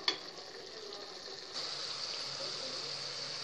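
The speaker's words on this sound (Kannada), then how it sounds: "ನೋಡಿ, ಟೊಮೊಟೊ ಎಲ್ಲ ಚೆನ್ನಾಗಿ ಕುದೀತಾ ಇದೆ." Tomatoes boiling in a pan for tomato rasam give a steady, soft hissing bubble, close and faint, continuous throughout with no talking.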